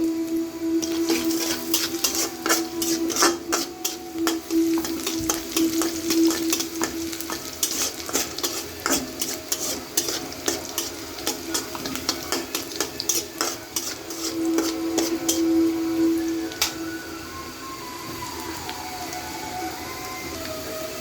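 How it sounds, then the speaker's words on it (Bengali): Chopped onions stirred and fried with salt in a pan, a steady sizzle broken by frequent scraping and clinking of a spatula against the metal, continuous and close throughout. "পেঁয়াজ কুচিগুলো ভালো করে নেড়ে হালকা কালার করে দেবো সামান্য পরিমাণ লবণ দিয়ে দিব"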